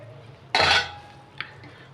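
A metal lid set down on a pot of chicken curry for an Andhra-style chicken fry, one loud clattering clank followed by a faint brief clink, close by with no talk.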